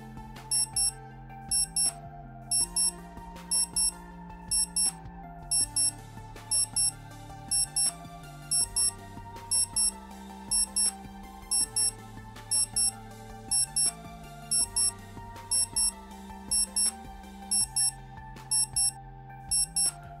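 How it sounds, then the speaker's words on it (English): A Casio AB-550 analog-digital data bank watch sounds its alarm as steady pairs of short, high electronic beeps, repeated evenly for about twenty seconds over background music. "it has a 20-second 2-beep alarm"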